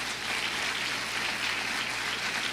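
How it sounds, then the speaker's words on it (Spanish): A church congregation applauds during a Spanish-language sermon, a dense, even patter of many hands that holds at a moderate, somewhat distant level for under three seconds with no talking. "¿Cuántos le dan un aplauso al Señor?"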